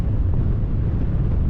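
Strong wind buffets the microphone at a wild camp in the Yorkshire Dales, a continuous low, heavy roar without gaps and without voices.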